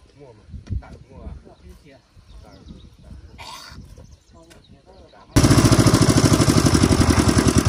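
Amid talk and clatter, an engine suddenly fires up and settles into a loud, rapid, steady chugging that carries on to the end.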